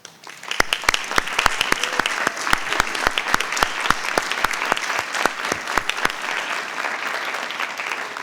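An audience at a school board meeting applauds student honorees with steady, sustained clapping. A few sharp, distinct claps ring out above the crowd, and the applause tapers slightly toward the end.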